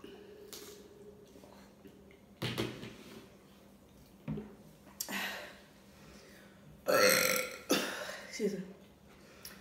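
Loud, close burps from a couple in a burping challenge, several separate belches spaced across the stretch with quieter pauses between them and some talking mixed in.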